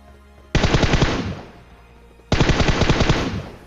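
Two loud sprays of automatic gunfire in the PUBG video game, each a fast rattling burst of about a second with a fading echo and a short pause between them.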